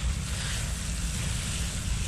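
Garden hose spraying water onto newly planted flowers in a yard, a steady close hiss and rush of broadband noise with a low rumble underneath, continuous throughout.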